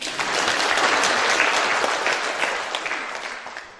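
A church congregation claps during a sermon, the applause loud at first and thinning toward the end, with scattered individual claps standing out.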